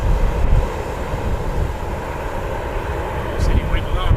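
A Qantas airliner on the runway at Wellington Airport, a steady broad jet-engine roar heard from a distance, continuous and fairly loud, with slight wind buffeting on the microphone and no clear talk.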